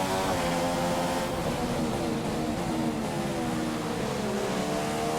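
Formula One cars race wheel to wheel in the F1 2015 video game at the Australian Grand Prix, a continuous loud, high engine whine with a dense, steady roar and no pauses.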